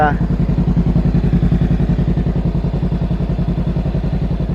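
A 2023 Honda Rebel 500 motorcycle engine idles nearby with a steady, rapid, even thumping pulse that stays loud and constant throughout, and no voice is heard over it.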